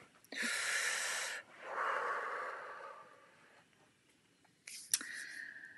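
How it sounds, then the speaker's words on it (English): A deep breath taken during a group breathing exercise: a long, breathy inhale, then a softer exhale that fades to near silence, followed by a brief rustle and a faint, thin tone. "Take a deep breath."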